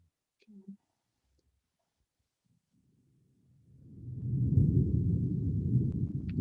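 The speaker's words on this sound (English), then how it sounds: "Do you hear the thunder in the background?" A low rolling rumble of distant thunder swells up and keeps grumbling after a few faint soft sounds at the start, heard in the background of a quiet room.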